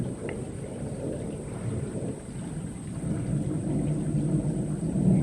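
Thunder from a storm rolls over a cottage garden on a wet afternoon as a low, continuous rumble that swells toward the end, with a steady wash of rain-like hiss and no talking.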